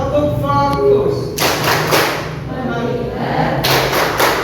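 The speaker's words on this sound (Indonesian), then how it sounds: "Ayo mulai kita melakukan tepuk fokus." An Indonesian classroom does a rhythmic focus clap: two dense bursts of many hands clapping together, loud and close, separated by a pause with voices and chanting.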